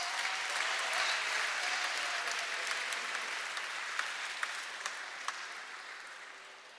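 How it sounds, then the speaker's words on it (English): Audience applause for a troupe of ten first-time dancers at a Basque dance event, a dense, steady clapping wash that fades gradually toward the end with a few sharper individual claps. "Give them a big round of applause."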